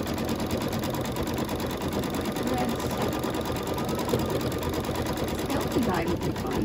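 An embroidery sewing machine runs a satin stitch around a Halloween quilt block, humming with a fast, steady, continuous stitching rhythm close by, while a person talks over it.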